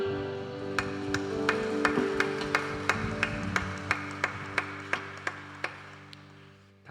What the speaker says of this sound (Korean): 주님께 영광의 박수 올려드립시다.